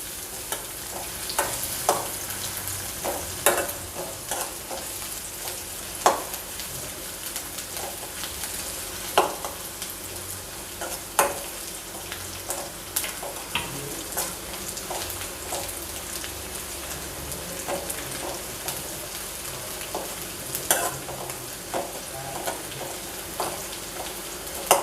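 Fresh ginger and garlic sautéing in a pan for vermicelli pulao, a continuous bright sizzle with frequent sharp pops and stirring clicks scattered throughout.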